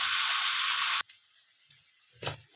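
Vegetables with papaya sauté in a pan, a loud bright sizzle for about a second that cuts off abruptly, followed by a couple of faint short stirring scrapes.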